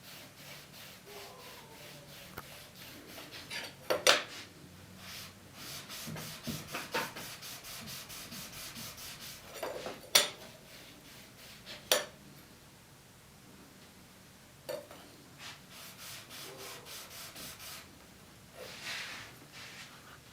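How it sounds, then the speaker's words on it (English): A taper reamer is rubbed against a sharpening stone to take the burr off, giving soft repeated scraping strokes. Faint clinks and sharper taps come now and then, with no speech. "Then I can make sure I'm putting even pressure, taking that burr off."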